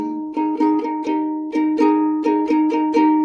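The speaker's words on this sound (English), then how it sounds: "It's the sound of going from the major chord to the suspended version of the chord." Plucked ukulele chords strummed in a steady rhythm, alternating between a bright major shape and a suspended variant, close and clear with no talking.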